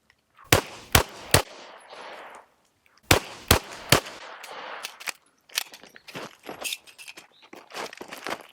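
Sharp, loud pistol shots from a CZ P10c fired on a range: a quick string of three, then another three, then a ragged series of quieter cracks and impacts toward the end.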